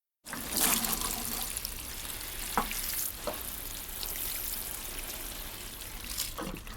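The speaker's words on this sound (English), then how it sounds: "You use a watering can to water the plants." A watering can sprinkles water over garden plants, a steady, close hiss of falling droplets that runs throughout with a few brief splashy accents.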